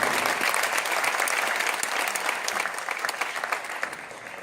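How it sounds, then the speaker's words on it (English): A crowd at an awards ceremony applauds the festival team, dense clapping that starts full and gradually thins out toward the end. "Please join us in giving a round of applause to the LAGFF team."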